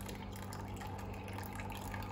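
Cold water running from a tap over boiled pasta in a colander in a kitchen sink, a steady faint splashing rush without pause.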